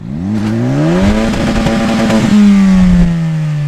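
A car spinning in donuts, its engine revving hard with a rising then steady pitch that sustains loudly throughout, no voices.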